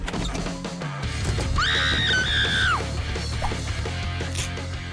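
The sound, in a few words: woman screaming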